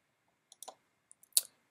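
Computer mouse clicking at a desk while a downloaded zip file is opened, a few close, sharp clicks including a quick double click, with quiet gaps between.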